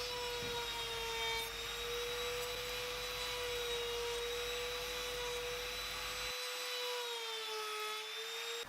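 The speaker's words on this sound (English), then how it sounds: "putting a half round on the top of the small router." A small router cuts a half-round profile on the top edge of a small wooden canister lid, a steady high-pitched whining motor drone with a continuous rough cutting hiss, close and loud throughout.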